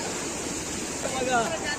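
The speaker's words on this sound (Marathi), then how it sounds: "हा बघा इथून रिटर्न पाणी येत आहे नाल्यामधून" Floodwater after torrential village rain surges back out of a roadside drain in a continuous rushing, churning wash of moderate loudness, with faint background sounds over it.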